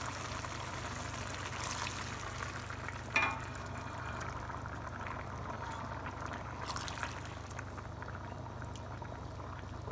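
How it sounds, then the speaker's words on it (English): Hot water is poured into a pot of boiling rice and millet pilau, bringing a steady bubbling and simmering hiss. A brief clink of a utensil is heard near the start, all close and moderately quiet. "I'm going to add hot water to this."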